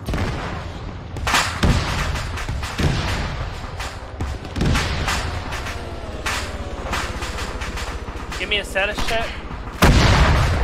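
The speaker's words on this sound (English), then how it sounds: "Alpha's green, we're taking heavy fire though" Heavy gunfire and booming explosions from a SOCOM jungle combat mission, loud and sustained, with bursts and blasts throughout and a big impact near the end; a radio voice speaks briefly over the battle.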